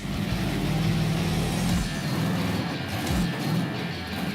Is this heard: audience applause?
no